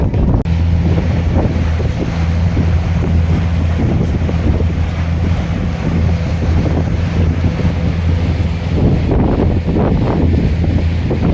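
A boat ride on the lake at Ukkadam boat house in Coimbatore, with steady, loud wind buffeting the microphone and a continuous low engine drone alongside water and wave wash throughout.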